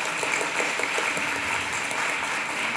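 An audience at an announcement event claps together in a steady, dense patter of applause, moderately loud and sustained throughout.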